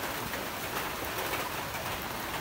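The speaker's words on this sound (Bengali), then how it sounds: "বাইরে তো বৃষ্টি আইছে" Rain falling outside, a dense, continuous steady hiss of drops on surfaces, loud and even throughout, with no voices.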